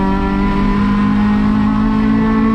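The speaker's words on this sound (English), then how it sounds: "That's me revving the car as I'm doing that." A touring race car at Sonoma Raceway, down on power with a balky gearbox, holds a steady loud engine rev close by, a constant droning hum with no speech.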